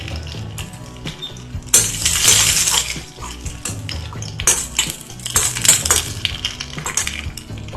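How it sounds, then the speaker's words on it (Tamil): Ginger and garlic hit hot oil in a pan for chicken fried rice, giving a close, bright sizzle that swells and fades with clinks of a spoon against the pan, no talking. "இப்போ நம்ம ஃபர்ஸ்ட் இந்த இஞ்சி பூண்டு போட்டுக்கலாம்"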